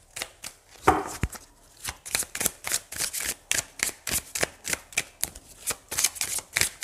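A deck of oracle cards is shuffled by hand close up, giving a quick run of crisp riffling flutters and soft slaps in an uneven rhythm, alone without talk.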